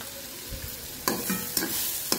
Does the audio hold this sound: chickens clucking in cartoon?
no